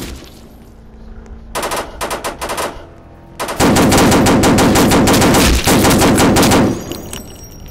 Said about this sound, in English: Best see how good the AK-103 is.